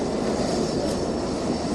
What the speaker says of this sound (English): Over the next 8 hours, he'll depart over 400 planes.